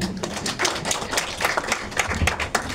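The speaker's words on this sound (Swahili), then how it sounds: "naomba mjipigie makofi mengi" An audience at a launch event claps in a dense, quick patter of overlapping hand claps. The applause is moderately loud, continues steadily for a few seconds and has no talk over it.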